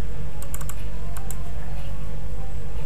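Fast typing on a computer keyboard while entering data into a form, with quick bursts of close key taps over a loud, steady background hum.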